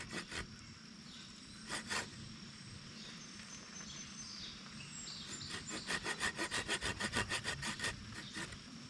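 A hand saw cuts an angled cordage notch into a wooden survival bow, with a few scattered strokes at first, then a quick run of rhythmic back-and-forth rasping strokes, close and fairly quiet.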